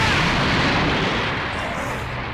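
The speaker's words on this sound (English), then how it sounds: "then moves to finish the fight with another Big Bang attack" Vegeta's Big Bang energy blast from Dragon Ball strikes its target as a loud, continuous roaring explosion that rumbles at full strength and slowly fades over a couple of seconds.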